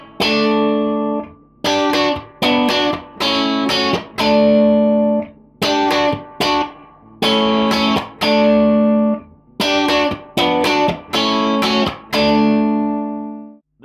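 An electric guitar plays the intro of a song as choppy, effected chords in short repeated bursts with brief gaps. It is fairly loud and clear, with no voices.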